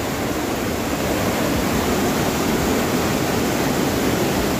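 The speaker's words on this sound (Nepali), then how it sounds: "त्यो झर्ना पनि डेन्जर कस्तो बवाल झर्ना भयो यार" A rushing mountain river and a steep waterfall on a Gosainkunda trekking route roar as a dense, constant broadband wash of water close by, steady throughout with no speech over it.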